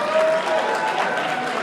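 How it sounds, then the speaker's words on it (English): An audience at a congresswoman's speech to an Efik association gives dense, sustained applause, a continuous wash of clapping in a large room with a faint tonal hum in the background. "Your applause is not strong enough."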